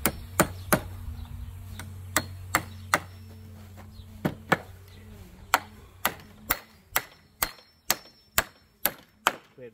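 A hammer drives a nail into a wooden shelf, about twenty sharp, close knocks, first irregular and then in an even, quickening rhythm, with a low hum under the early strikes.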